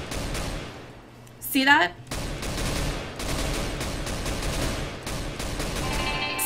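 Tap-fired gunfire in CS:GO, rapid short bursts of shots crackling through the game's ambience, with a person talking briefly partway through.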